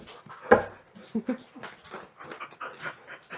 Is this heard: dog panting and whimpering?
yes